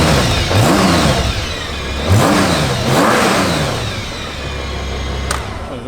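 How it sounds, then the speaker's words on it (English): A 2007 Honda Goldwing motorcycle engine starts up and revs a few times, rising and falling in pitch, then settles into a steady idle close by. "Fire it up. Bike comes right to life."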